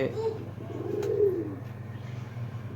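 Pakistani pigeons coo softly, one low drawn-out call standing out from a steady hum, close and quiet with no talking.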